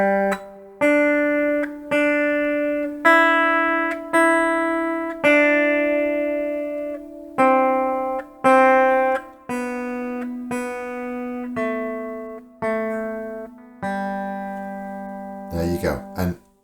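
Guitar playing the opening section of Twinkle Twinkle Little Star, a slow sequence of about a dozen single plucked notes with steady spacing and ringing decay, close and clear, ending with a brief strum-like scrape.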